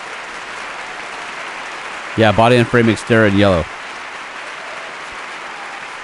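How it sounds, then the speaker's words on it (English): A dealership crowd applauds and cheers for a yellow Xterra truck reveal, a steady wash of clapping that continues throughout while someone speaks briefly over it in the middle. "You guys gotta stop cheering for a sec"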